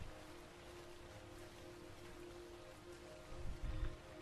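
Steady rain hiss in a song with a low hum, even and continuous, with a brief louder low rumble near the end.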